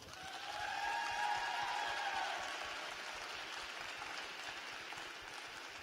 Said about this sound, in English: Let's give Raven one more huge round of applause.